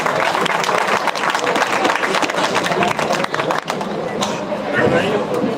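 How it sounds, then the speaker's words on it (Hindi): An audience at a Veer Milan Samaroh ceremony breaks into loud, sustained applause to welcome a speaker named Piyush, with dense clapping filling the whole stretch and some voices mixed in. "पीयूष भैया का एक बार और जोरदार तालियों के माध्यम से उनका स्वागत करते हैं"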